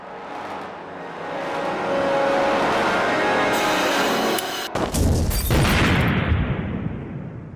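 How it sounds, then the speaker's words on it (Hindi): A rumbling engine-like roar builds, then a sudden loud gas cylinder blast cuts in, followed by a dense, crackling burst of noise that fades away. "ये माना जा रहा था कि ये धमाका किसी गैस सिलेंडर"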